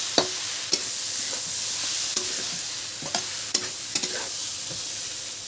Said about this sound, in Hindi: तब तक हमने दाल में तड़का लगा ली।